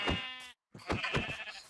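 Sheep in the video game Minecraft bleat twice, loud and close, with a short gap of silence between the two calls and no voices.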